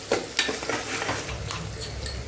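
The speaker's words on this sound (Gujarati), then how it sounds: "તો અહીંયા આપણે ડુંગળી એકદમ સરસ પાકી જાય ને ત્યાં સુધી એને સાતળવાની છે।" Onions sautéing in a pan for Kathiyawadi masala khichdi, a steady close sizzle with a few stirring scrapes and clinks of the spoon, and no talk.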